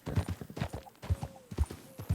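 Horse hooves clip-clop in Red Dead Redemption 2 as the rider mounts up, an even, close rhythm of hoofbeats at a walking pace, distinct and alone.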